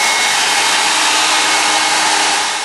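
Hair dryer blowing on wet watercolour paint during a painting lesson, a loud steady broadband whoosh that runs unbroken and alone, easing slightly at the very end.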